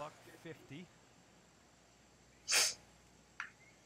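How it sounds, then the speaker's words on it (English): A single sharp sneeze from a man streaming a golf video game, short and fairly loud against quiet room noise, preceded by brief faint voice sounds and followed by a small breathy snort. "So if I cough or sneeze, I do apologise in advance."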